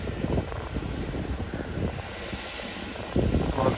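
Aircraft engines, including those of a long-haul Boeing 767, rumble at an airport in Ponta Delgada in the Azores, a steady moderate roar with fluctuating low texture that swells slightly near the end.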